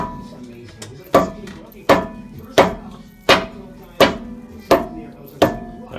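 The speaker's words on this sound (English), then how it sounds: "I'm equipping my rusty trusty hammer and just gonna fucking whack this sucker on" A rusty hammer struck against a rear bumper part being fitted onto a 2015 Jeep Wrangler, producing about seven loud, close, sharp metallic whacks in a steady rhythm roughly every 0.7 seconds.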